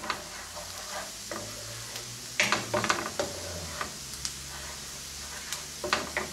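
Minced garlic clove sizzling and frying in a pan with browning ingredients, steady crackle under repeated scraping and stirring strokes, close up with no talk.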